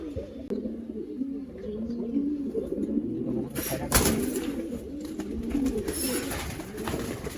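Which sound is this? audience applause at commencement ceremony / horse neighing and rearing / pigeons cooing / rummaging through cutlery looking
pigeons cooing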